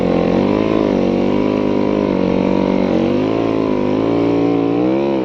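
Snow bike engine idling and running smoothly after its fuel was refiltered, a loud, steady, close-up buzzing drone with gently wavering pitch and no pauses.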